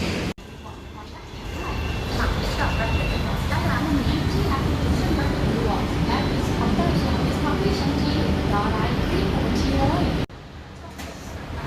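Steady rumbling and whirring of a BTS Skytrain electric metro train running, heard from the standing area inside, continuous and fairly loud, with a voice talking over it and an abrupt drop near the end.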